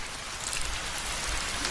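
Cartoon rain pours down in an even, dense hiss on a road at night, loud and steady, with no voices.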